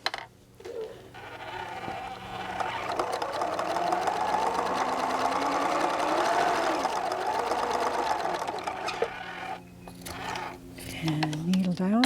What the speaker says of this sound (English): I'm going to have my needle down and sew across the end.